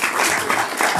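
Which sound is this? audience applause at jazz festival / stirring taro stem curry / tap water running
audience applause at jazz festival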